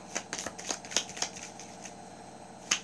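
A deck of stiff playing cards is shuffled in a quick run of crisp riffles and snaps, close and fairly loud, followed by a brief pause and then one last sharp riffle.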